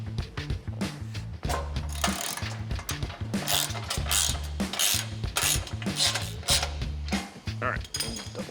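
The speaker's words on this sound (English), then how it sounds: "I'm gonna use my old adjustable jack stand here." An old adjustable jack stand is ratcheted up beneath the frame of a worn 1972 Chevrolet C10 truck, giving a loud, steady run of metallic clicks and clacks that carries through the whole stretch with no speech over it.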